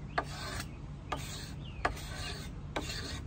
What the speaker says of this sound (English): So we're using the cabinet scraper. You can see the curls that come off.